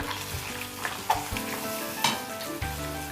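Curry leaves and asafoetida fry in hot oil with a steady crackling sizzle, broken by a few sharp pops and stirring clicks, heard up close.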